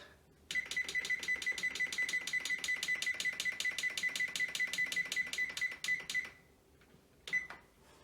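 An oven timer is set to 30 minutes: a rapid, even string of loud electronic beeps goes on for about six seconds, stops, then one short beep burst follows, in a quiet kitchen.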